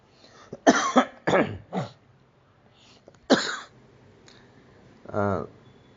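Several sharp, close coughs in quick bursts, a pause, then one more cough and a throat-clearing rasp at the end.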